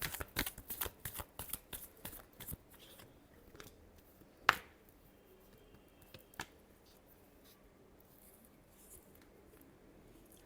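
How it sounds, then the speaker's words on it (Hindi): A deck of playing cards is shuffled in a quick flurry of riffling snaps over the first few seconds, then a couple of isolated sharp taps before the room falls quiet. "Last shuffle."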